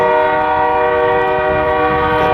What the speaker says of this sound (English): It's gonna be kind of hard to talk over these trains